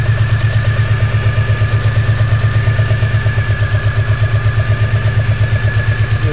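A 2003 Mini Cooper engine runs steadily at idle with a rapid, even mechanical clatter ticking over it. The sound is close and loud, with no talking.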